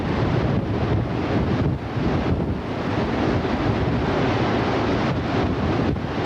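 Strong wind roars and buffets the microphone during a multi-vortex tornado, a loud continuous rushing gust that swells and dips briefly, with no voices over it.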